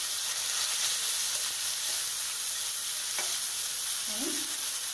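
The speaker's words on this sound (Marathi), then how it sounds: "परतून घ्यायचं व्यवस्थित" A coriander, ginger and chili paste sautés in a pan with a loud, continuous hissing sizzle, with a few faint stirring scrapes along the way.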